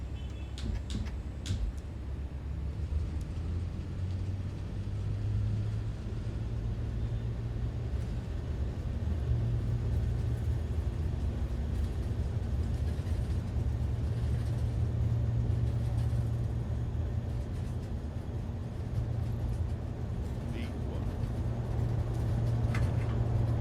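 Airbus A400M turboprop engines at full takeoff throttle in Microsoft Flight Simulator 2024, a steady deep droning rumble that holds loud and continuous throughout.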